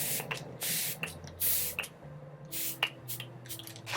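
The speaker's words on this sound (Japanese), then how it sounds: "メイクスプレーをかけていきます。" Makeup setting spray mist is pumped close to the face in several short, sharp hissing bursts at uneven intervals, with quiet gaps between.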